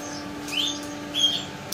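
Chicks of domestic chickens give two brief, thin, high chirps about half a second apart, faint against a steady low background hum, with no talking.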